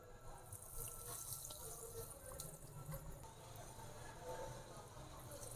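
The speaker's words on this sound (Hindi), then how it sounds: "ऑयल गर्म हो चुका है, इसमें डालेंगे डोनट, इनको फ्राई करते हैं।" Potato donuts fry in hot oil over a low flame, a steady, close hiss and sizzle that runs without a break, with some background noise.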